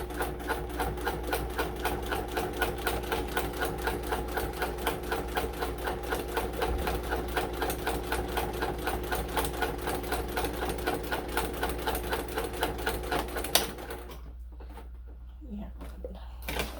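A sewing machine stitches down the sides of fabric with a steady, rapid, close mechanical whir for about thirteen seconds, then stops abruptly into near quiet.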